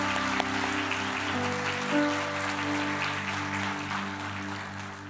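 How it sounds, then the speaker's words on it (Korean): Sustained applause from a church congregation honoring a graduation during a Sunday worship service, steady clapping over held organ or keyboard tones. "우리 박수로 한번 격려해 주시기"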